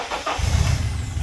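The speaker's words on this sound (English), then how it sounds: "Okay, so the car is running." A 2003 Honda Accord with poor power and P0420 and P0404 faults cranks briefly, then its engine catches and settles into a steady, close idle rumble.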